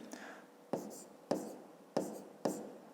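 Handwritten numbers being jotted down for a fifth-grade math exercise, a pen or pencil making five short, sharp scratching strokes in a steady rhythm, close and fairly quiet with faint room hiss between.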